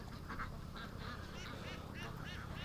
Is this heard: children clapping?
no